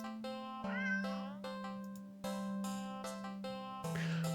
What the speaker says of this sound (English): it is a cat